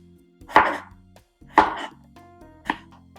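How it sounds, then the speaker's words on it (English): A knife cuts potatoes into roughly one-inch cubes on a board, making three separate, crisp chops about a second apart, close and clear against near silence. "take these potatoes and I'm going to cut them into cubes, approximately like 1 inch in size"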